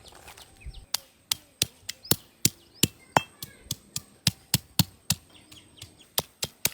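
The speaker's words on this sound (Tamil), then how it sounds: "இப்போ எல்லாத்தையுமே இடிச்சு எடுத்துக்கலாம்." Shallots, a piece of ginger and garlic pounded for drumstick leaf soup: about twenty sharp, evenly spaced thuds in a steady rhythm, loud and close, with faint bird chirps in the background.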